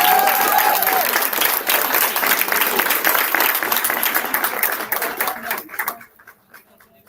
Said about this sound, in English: Join me in giving him another round of applause.